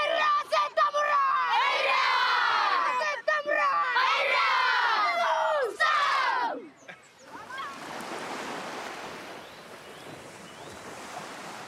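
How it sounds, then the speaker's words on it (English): A rugby team in Fiji shouts a loud group cheer outdoors, rising and falling voices chanting together for several seconds before fading into wind and surf noise. "let's do have a cheer"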